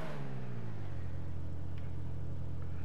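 Engine of a Grotti Furia supercar in GTA V Online revving, a strong, steady, close drone whose pitch sweeps down and then settles into a constant hum, with no talk over it.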